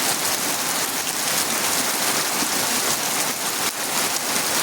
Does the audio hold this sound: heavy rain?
yes